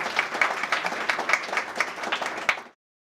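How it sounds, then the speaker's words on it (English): An audience at a national security conference applauds panelists, a brisk round of dense clapping close up that holds steady for nearly three seconds and then cuts off abruptly. "will you join me in giving a round of applause to our panelists?"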